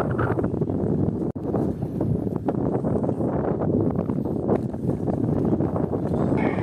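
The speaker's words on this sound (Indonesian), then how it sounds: "Hembusan angin agak kencang ya" Strong wind buffets the microphone at a riverside traditional fishing spot, a steady loud broadband roar lasting throughout with gusty swells and no talk.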